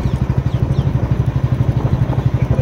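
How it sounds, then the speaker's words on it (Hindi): A motorcycle engine putters at a close, loud, steady pulse, its rapid thumping beat running unbroken with some road and wind noise behind it. "बाइक में आवाज़ बहुत ज़्यादा है"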